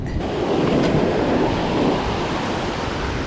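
Ocean waves roll onto a beach where someone is surf fishing, a continuous loud wash of surf with a rising swell, heard alone without voices.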